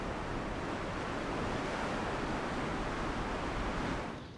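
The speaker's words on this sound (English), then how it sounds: "Waves driven across the Atlantic smash against the cliffs" Atlantic waves driven by southwesterly winds smash against coastal cliffs, a loud, continuous roaring wash of surf that stays steady before easing off at the very end, with no voices.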